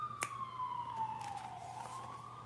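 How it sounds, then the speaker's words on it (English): A wailing emergency siren sweeps slowly downward in pitch over a steady low hum, sounding at moderate distance with a brief sharp accent early on. "the sirens."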